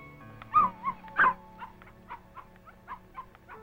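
A puppy whimpers in high, wavering cries, two louder whines followed by a string of shorter, softer yips and whimpers, close by with no talking.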